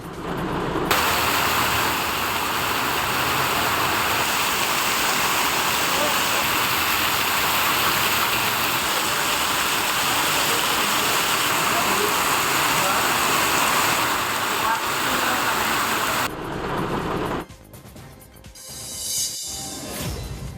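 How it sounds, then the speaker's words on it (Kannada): Heavy rain pours down while floodwater runs over the roads, making a dense, continuous rushing hiss that holds steady before dropping away abruptly near the end. "ರಸ್ತೆ ಮೇಲೆ ಒಂದೇ ಸಮ ನೀರು ಹರಿತಾ ಇದ್ದು"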